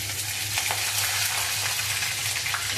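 Mustard seeds, cumin, curry leaves and chilli fry in hot oil in a pan, giving a loud, constant close sizzle with scattered small pops and no voices.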